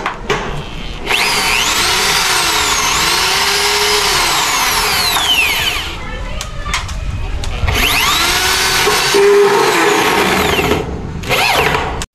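A power drill drives Tek screws through wood into a tubular steel frame while building a temporary front roof, whining loudly and steadily close up with rising and falling pitch between screws and a short burst at the end.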